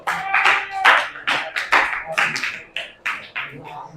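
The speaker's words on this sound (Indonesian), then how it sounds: "kita kasih aplaus dulu kelompoknya" A classroom applauds a student group in a burst of uneven, close hand clapping that comes in irregular bursts and thins out near the end, with no talk over it.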